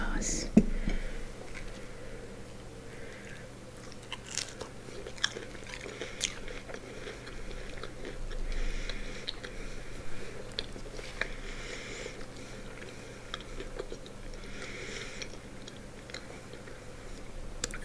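Quiet close-up eating of fish sticks and shoestring French fries with ketchup and tartar sauce, soft repeated bites and chewing throughout with faint whispering.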